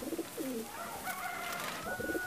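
Soft, close pigeon cooing in short repeated phrases, with a few fluttering rustles in a quiet indoor pigeon loft.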